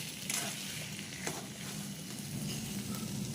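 Taro leaves with spices being stirred in a frying pan, a steady close sizzle with occasional scraping strokes of the spoon, no talking.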